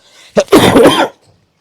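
A single sharp cough followed by a longer harsh throat-clearing cough, close and loud, then quiet, in a cold winter evening setting where coughs and colds have started.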